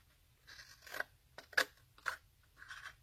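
Scissors snip paper for a flip-book craft, giving four or five short, quiet, close crisp cuts in an irregular rhythm.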